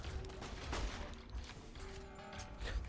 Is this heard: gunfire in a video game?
yes